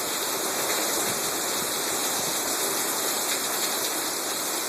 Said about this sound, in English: Oh, there comes the downpour.